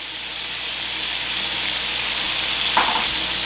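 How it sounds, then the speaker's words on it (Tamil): Boneless chicken with ginger garlic paste, chili powder, curry powder and pepper sizzling steadily in olive oil in a pan, a constant close frying hiss with a brief stir near the end. "இது நல்லா கொஞ்சம் பொரிஞ்சு வரணும்"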